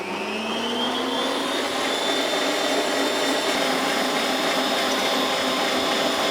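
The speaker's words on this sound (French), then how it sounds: "Là, je peux augmenter la vitesse du batteur." Electric hand mixer running at a raised speed while beating a cream thickening over medium heat for a hazelnut rocher Yule log, a steady close whirring drone with a slowly rising pitch that holds without a break.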